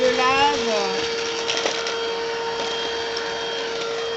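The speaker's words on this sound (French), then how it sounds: "un coup d'aspirateur sur le balcon" A vacuum cleaner runs on a balcony during home cleaning, a steady whining drone with a high tonal hum, while someone speaks over it at the start.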